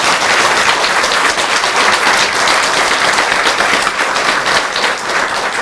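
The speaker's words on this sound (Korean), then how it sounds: "그 고마움에 다시 한번 큰 박수 드립니다" Sustained, even applause fills a Korean lecture hall as a large audience claps for a teacher, a dense unbroken patter that stays at a constant level from start to finish.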